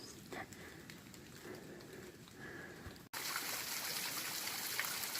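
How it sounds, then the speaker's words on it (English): Waterfall on the Appalachian Trail in drizzly February weather, a steady rushing splash that grows suddenly louder and fuller after a cut midway, continuous and close with no talk. "This video is going to have two purposes. The waterfall, of course"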